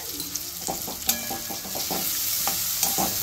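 Onion sautés with salt in a pan for ragi upma, a steady close sizzle broken by a quick series of rhythmic spatula scrapes and taps, with no voices.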